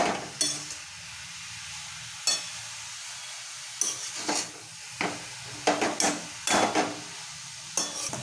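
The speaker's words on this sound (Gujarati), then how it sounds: "ગાજરને બરાબર તવીથાથી શેકાવા દેવાના છે। બરાબર શેકાઈ રહ્યા છે ગાજર।" Grated carrots roast in ghee in a pan for carrot halwa while a metal spatula scrapes and stirs them in irregular, close strokes over a soft sizzle, with no talking.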